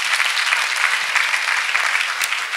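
An audience claps for Master Jesus at a church gathering, steady and dense throughout with no voices over it.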